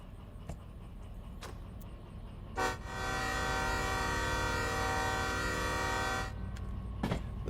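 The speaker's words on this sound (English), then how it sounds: "This time we will hit the horn intentionally." A locomotive horn blares in the train simulation game Derail Valley, one sustained tone lasting several seconds over a low engine rumble, with a few faint clicks before and after.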